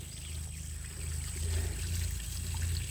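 Water poured from a hose or can onto garden vegetables, a steady close splashing and trickling that swells slightly in the middle over faint outdoor noise.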